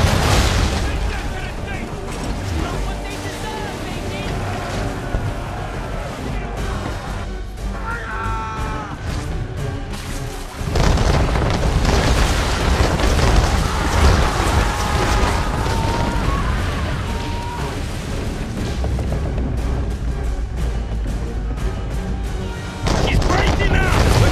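Cannon fire from a ship in Assassin's Creed 3, heavy booms over a loud battle mix with shouting voices and game music, intense and continuous throughout.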